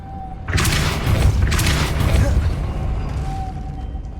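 In Hogwarts Legacy, a Depulso spell is cast with a loud, booming magical burst that swells and rumbles for a few seconds before fading, and someone speaks over it.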